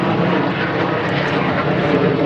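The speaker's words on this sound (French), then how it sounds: "un avion à hélice, certes un avion à haute performance qui va vite" A Hawker Sea Fury propeller fighter flies past at an airshow, its piston engine giving a loud, continuous, rough roar that holds steady throughout.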